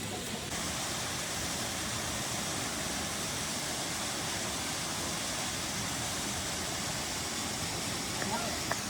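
Constant broad rushing of flowing water in the valley below Ekole Valley, steady and fairly loud throughout, like a stream or falls heard from nearby.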